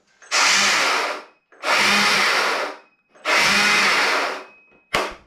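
A small cordless Stihl MSA 220 T battery chainsaw whirs up three times in long bursts with short silent gaps between, close and loud, then a final brief start.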